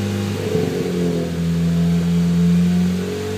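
Aftermarket exhaust on a 2013 Hyundai Veloster Turbo held steady at 3000 rpm, giving a loud, constant droning hum close by after a brief rise.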